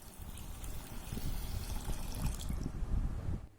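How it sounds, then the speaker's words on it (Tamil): Rice and lentils, including toor dal, being washed in water for multigrain dosa batter: close, steady sloshing and dripping for a few seconds before fading out. "இப்போ இந்த எல்லா பருப்பையும் நல்லா நம்ம ஃபஸ்ட்டு வாஷ் பண்ணிக்கலாம்,"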